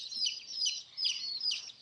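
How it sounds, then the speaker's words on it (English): Chickens cluck and chirp in short, repeated high-pitched bursts, fairly faint and somewhat distant, with no talking. "And yes, you do hear chickens."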